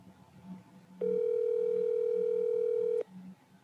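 A steady electronic telephone ring tone sounds while someone calls a person, one unbroken two-second tone, loud and clear against faint room noise, with no talking over it.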